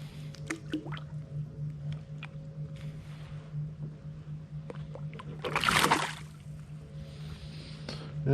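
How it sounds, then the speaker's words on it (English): A bass splashes the water once as it is released beside a fishing boat, a brief loud burst of spray standing out over a steady low engine hum and small drips. "And of course he's got to splash me before he leaves."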